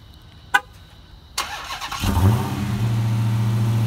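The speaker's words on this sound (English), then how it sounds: "Just so you can hear what 707 horsepower sounds like." A 2017 Dodge Charger SRT Hellcat with 707 horsepower: a couple of faint clicks, then the engine cranks and fires at about two seconds, settling into a loud, deep, rumbling idle close by.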